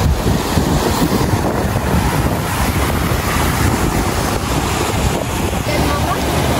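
Strong wind blows outdoors on a farm plot, roaring steadily into the microphone as a continuous rushing buffet throughout.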